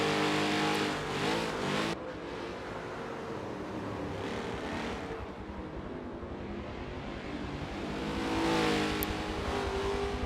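Simulated race cars, a 1969 Mercury Cougar and a 1970 Chevrolet Camaro, in a historic Trans Am race at the Nürburgring GP circuit, engines roaring steadily throughout with revving pitch shifts and a loud passing surge near the end.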